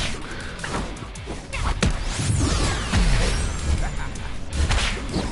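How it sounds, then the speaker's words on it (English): Fireworks go off on a character's face in the fighting game Power Rangers Battle for the Grid: quick whooshes, crackling bursts and hits layered over busy game effects. "Cat just ignited a load of fireworks on his face."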